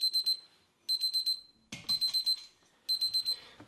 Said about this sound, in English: It is set to 100, and once it passes the temperature, it will alarm you.